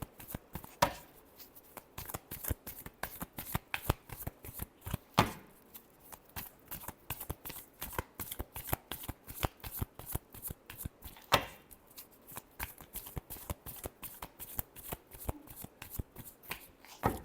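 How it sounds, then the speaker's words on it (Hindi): Tarot cards shuffled by hand in a quiet room, a long run of quick, crisp riffling flicks with louder bursts now and then, close and alone. "Last shuffle."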